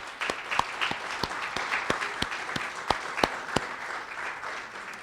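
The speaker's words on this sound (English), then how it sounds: "So let's give Elon one more round of applause." An audience at a Bahamian mural dedication applauds, a moderate spread of clapping with distinct individual claps standing out sharply above the steady patter.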